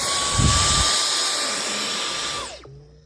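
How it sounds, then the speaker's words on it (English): A Dyson cordless vacuum fitted with a dusting attachment runs with a loud, steady high-pitched motor whine and airy rush, then powers down with a falling tone as it switches off. "the dusting attachment, which is good for a Dyson cordless vacuum"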